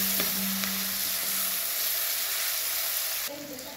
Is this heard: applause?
no